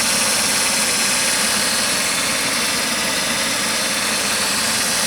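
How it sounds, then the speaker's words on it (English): Car engine idling smoothly after its EGR valve was cleaned, a steady, even hum with a broad hissy wash, loud and close, running unbroken with no voices. "The engine is running pretty good"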